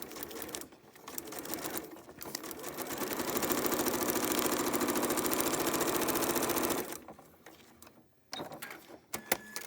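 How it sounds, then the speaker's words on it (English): A sewing machine stitches along the fold line of a paper pieced quilt block in a fast, steady whirring run of several seconds, starting and stopping with short bursts and clicks, no talking. "you can just sew along the fold line before you get to the drawn line"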